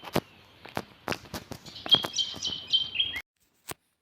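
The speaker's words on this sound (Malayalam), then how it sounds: "അതാണ് മാഗ്പൈ." Magpie calling near the base of a tree, several sharp chirps and a harsh chattering call at close range, with scattered clicks or footsteps, ending in near silence.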